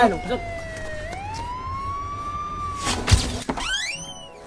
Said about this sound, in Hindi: वो दे एम्बुलेंस आगे काका एम्बुलेंस उठा लो